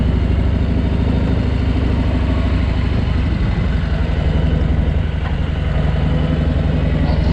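A motorcycle on a rider training course, heard from the bike itself, with its engine running loud and steady throughout and small shifts in tone as it moves through turns.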